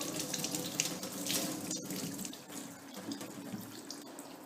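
Tap water runs steadily into a sink while rubber stamps are washed with soap, a close, continuous splashing stream with small shifts as hands move through the flow.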